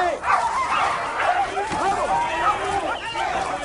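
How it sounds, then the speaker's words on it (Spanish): Several dogs bark and yip in quick, overlapping bursts at close range, with whimpering and continuous chatter from people mixed in throughout. "Trae más perros."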